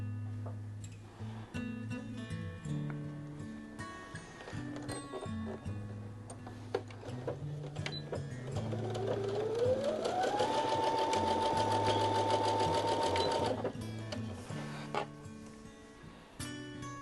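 A sewing machine chain-pieces quilt pieces, its rapid needle chatter running steadily and rising to a louder, faster stretch in the middle before easing off, with small clicks and handling noises around it.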